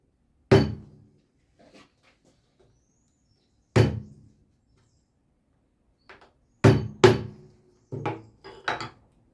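Small half-flat wood carving gouge, a 4-5 sweep, cutting short sections of a relief carving: sharp woody knocks and chops, a single strike, another after a pause, then a quick cluster of cuts, close and with no talking.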